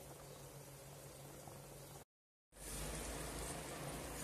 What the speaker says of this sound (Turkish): Suyunu çekene kadar kaynayacak.